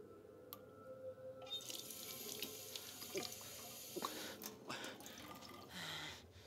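A tap runs steadily in the video game As Dusk Falls, water splashing into a sink at moderate volume. Faint drips and small clunks sit on top, and no one speaks.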